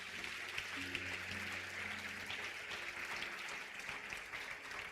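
A church congregation applauds in a continuous, fairly quiet, even wash of clapping, with a low sustained tone underneath.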